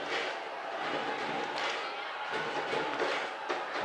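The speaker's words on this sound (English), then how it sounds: "Defense urging the crowd to make some noise here on 4th down." A high school football crowd at the Monett vs McDonald County game roars on fourth down, a broad, steady wash of distant cheering and shouting with a few louder surges.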